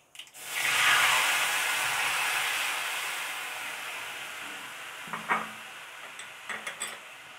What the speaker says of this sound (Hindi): अब मैं इमली का घोल डालूंगी इसमें